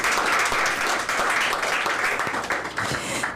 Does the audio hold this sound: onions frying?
no